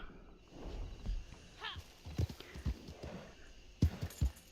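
Horse hooves clip-clop in an irregular, stumbling rhythm in the Red Dead Online game, several sharp close thuds with a brief whinny-like tone partway through.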